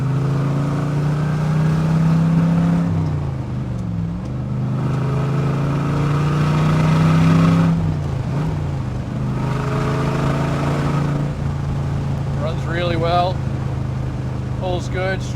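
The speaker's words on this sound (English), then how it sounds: "We're going to run it through the gears again, take it all the way up to fourth." A 1966 Chevrolet Corvette 427 coupe is heard from the cabin, its engine climbing through the gears on a farm road with steady revs, brief dips at each shift, and the loud drone continuing throughout.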